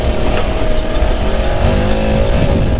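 A 2021 Honda Pioneer 700 farm side-by-side buggy accelerates hard, its engine revving loud and close with a rising tone over rumbling wind and tyre noise, and no voices.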